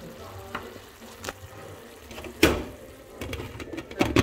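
Pakbet vegetables in a pan with meat broth get stirred, scraping and clattering in irregular bursts over a soft background sizzle, with one sharp loud scrape near the middle.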